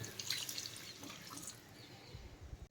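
A small trickle of water poured into a pan of cooking masala for sundal kurma, a brief, soft liquid splash with light dripping, close and quiet.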